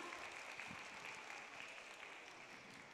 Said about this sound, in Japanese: どうぞ拍手でお送りください。